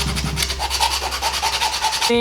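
Quick back-and-forth rasping of sandpaper on a wooden fidget spinner cut from a broken skateboard deck, steady rhythmic strokes close up, ending with a brief tonal sound.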